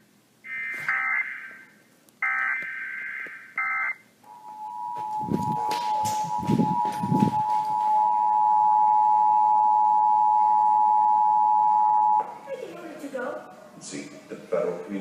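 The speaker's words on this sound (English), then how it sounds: "an official message would have followed the tone alert you heard at the start of this message" Tones from a national Presidential Alert Emergency Alert System and WEA test: three short bursts of harsh data-burst header tones, then a long steady attention tone lasting about eight seconds. Broadcast voice and noise follow after it.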